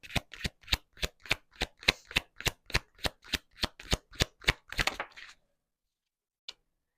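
Tarot cards riffled and shuffled by hand in a quick, even run of about twenty crisp snaps up close, then silence and one last soft card tap as a card is drawn.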